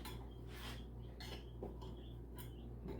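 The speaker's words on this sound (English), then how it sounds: "I'm going to run a knife around the edge." A knife scraping around the inside edge of a cake pan holding a baked gluten-free pineapple upside-down cake, producing several short metallic rasps and clinks close by, with no talking.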